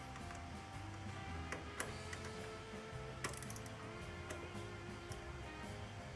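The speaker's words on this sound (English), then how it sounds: "And once again, we'll use our happy little ratchet guy here." A ratchet tightens the negative battery terminal on an NA6 Mazda Miata while a lithium battery is installed, giving a steady run of quiet, close, repeated clicks with gear-like ticking and no voices.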